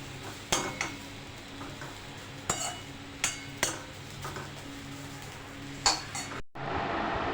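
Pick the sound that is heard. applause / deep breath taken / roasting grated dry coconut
roasting grated dry coconut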